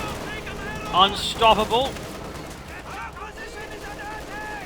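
Bursts of machine gun fire and battle noise from the video game Company of Heroes 2, with light machine gunners firing in a short loud cluster of rattling shots, while someone talks over the action.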